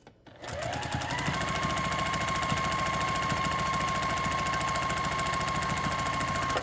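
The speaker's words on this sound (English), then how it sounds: "I'm keeping this edge of my foot on that seam line and just sewing across this again" A sewing machine runs steadily, stitching a double seam across a duffle bag pocket, with a fast, even mechanical chatter and a faint whine that start abruptly and carry on alone.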